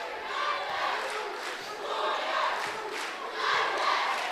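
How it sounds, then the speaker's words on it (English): A high school basketball crowd cheers and roars in a gym during a close game, a loud sustained wash of voices swelling in waves. "Both teams cheering."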